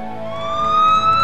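A loud ambulance siren sounds up close, one steady tone that slowly rises in pitch over about a second, with no speech.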